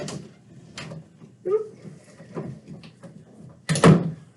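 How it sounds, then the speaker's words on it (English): An indoor door swings shut during a break in a sport conditioning class, landing as one loud, close thud near the end after quieter shuffling and small knocks. "I'm going to close this door until I need to open."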